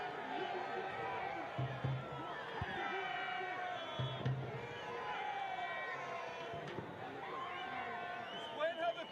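A home soccer crowd in a stadium groans and murmurs in frustration after play stops for a clash of heads, a steady broad roar of many voices with brief swells, and indistinct talk mixed in.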